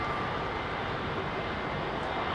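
An Airbus A350 airliner comes in to land at Heathrow, its engines a steady, loud broadband roar that holds evenly throughout with no voices over it.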